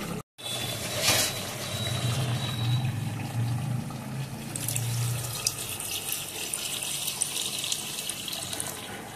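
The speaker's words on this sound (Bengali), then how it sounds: "এবার জল দিয়ে দেবো।" Water runs steadily from a tap or jug into a pot of braised goat meat cooked in an aluminium pot with ground spices. A short break comes early, then the flow splashes and gurgles continuously at moderate volume, with no talk.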